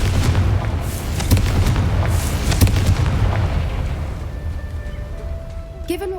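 A Confringo blasting spell in Hogwarts Legacy sets off a deep booming explosion with a rumbling tail, loud and close, then fades into quieter crackling debris.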